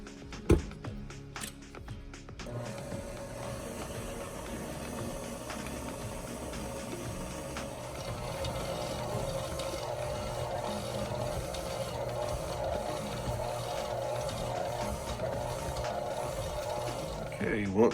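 A stand mixer works bread dough with its kneading hook, giving off a steady mechanical whir with rhythmic clicking and knocking that keeps on from start to finish, loud and close, with no talking.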